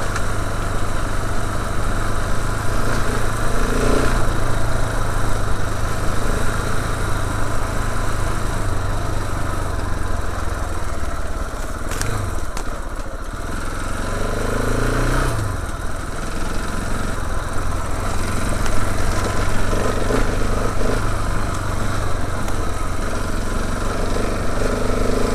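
A motorcycle engine idles steadily on a Somerset byway near Dunkerton, a loud, even, continuous rumble close by with slight shifts in pitch and no speech.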